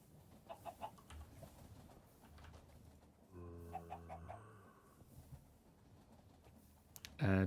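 Chickens in the Minecraft modpack FBF Craft v3 give a few soft clucks and a short run of pulsing bird calls over a hissy background, followed by a louder burst at the end.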